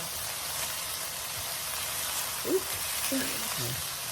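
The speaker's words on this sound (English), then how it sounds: "we have had these patties cooking for about like 5 minutes" Salisbury steak patties sizzle steadily in a frying pan, a constant close hiss and crackle, with a few brief voice sounds over it.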